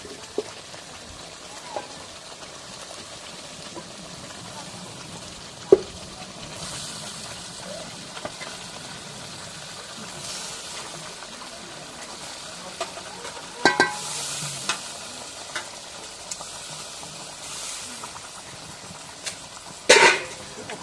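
Meat dropped into a pan of cooked-down spice paste keeps up a rain-like crackling sizzle while a spoon stirs and scrapes it, with sharp metallic clanks now and then.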